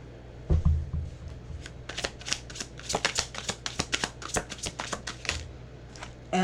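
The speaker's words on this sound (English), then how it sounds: "I'll be shuffling these decks." Deck of tarot cards being shuffled, with a rapid series of crisp riffling snaps and taps close up, quiet, steady and uneven in rhythm, without talk.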